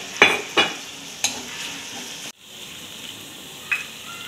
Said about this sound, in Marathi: जे आपण मसाले घातले होते ते 2 मिनिटासाठी फक्त तेलामध्ये परतून घ्यायचे आहेत